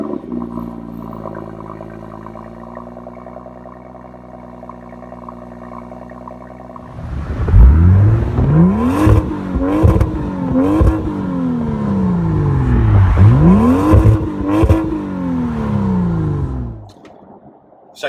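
A 2018 BMW M2 sits at a steady low idle, then its exhaust roars as the engine revs up and falls repeatedly while driving, loud and close.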